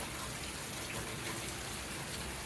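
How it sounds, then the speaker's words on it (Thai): Steady rainfall pattering outside a house in Laos, a dense continuous hiss of drops with no breaks. "ถ่ายวิวฝนตกให้เบิ้งเด้อ"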